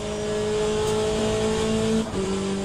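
Race car engine at Monza in the Le Mans Ultimate sim, a steady loud high-revving drone held at speed, then a brief dip and gear change near the end, with no voices.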